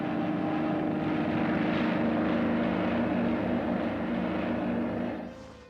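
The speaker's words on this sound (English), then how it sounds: "the Sikorsky HH-3E helicopter, commonly referred to as the Jolly Green Giant, became a vital asset for rescue missions" A Sikorsky HH-3E Jolly Green Giant rescue helicopter from the Vietnam War era drones steadily with a loud, sustained rotor and engine hum, close by, then fades out in the final second.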